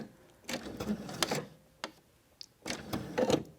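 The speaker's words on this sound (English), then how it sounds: "I will pivot and now try to match exactly where I was sewing before" Sewing machine stitching through paper while pivoting at the point of a heart shape, with short bursts of fast mechanical stitching separated by pauses and a final back stitch, close and moderately loud.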